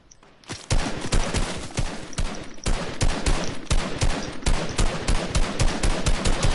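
Rapid automatic gunfire from the Fortnite video game, a dense, loud, sustained burst of shots fired in quick succession with brief pauses, no talking.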